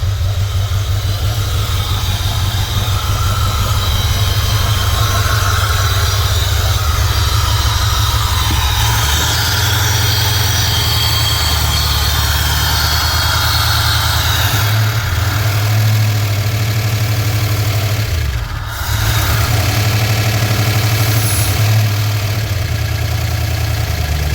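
A turbocharged engine idles steadily and loudly for a long stretch, a deep rumbling drone with slight vibration and a brief dip near the end; exhaust leaks past the turbo.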